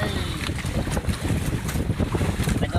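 Strong wind out at sea on a boat roars as a loud, steady rush over a deep, churning low rumble, constant from start to end.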